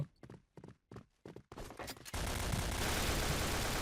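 Gunfire in the Point Blank shooter game: a few separated shot bursts, then a dense, continuous automatic fusillade that fills the rest of the moment, loud and close.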